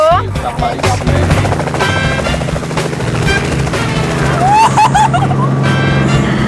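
Loud, continuous helicopter rotor thrum fills the scene with a rapid chopping beat, while people's voices rise over it now and then.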